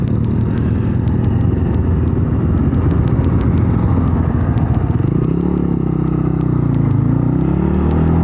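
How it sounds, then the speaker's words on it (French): A loud motorcycle exhaust rumbles steadily and close for the whole stretch, joined by a rising and falling engine note in the second half, with some clatter on top. "il fait du bruit son pot"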